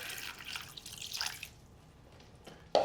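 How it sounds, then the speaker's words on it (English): Warm water pours and trickles briefly onto a sourdough starter ferment in a container, fades out, then a short splash or clink follows at the end; close and fairly quiet. "I got warm water onto the top of the ferment"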